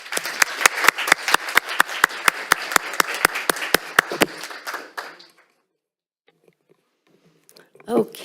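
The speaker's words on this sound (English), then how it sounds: "Let's give our MEF a round of applause." An audience at a school district meeting claps, a brisk run of sharp individual claps that fades out partway through, followed by near silence and a brief voice at the end.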